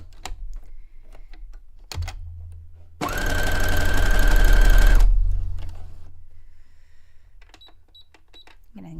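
A sewing machine stitches pant fabric in one fast, continuous two-second burst, loud and close, with quiet handling noises and clicks before and after.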